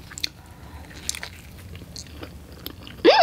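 Soft bites and chewing on an enormous Burger King breakfast burrito stuffed with hash browns, a few quiet crunchy mouth sounds close to the mic, ending in a louder burst.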